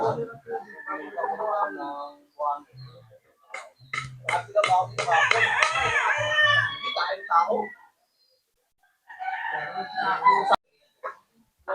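A fighting rooster crows loudly nearby amid clucking fowl, while someone talks on and off around the calls.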